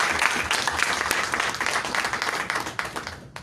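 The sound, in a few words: applause at a press conference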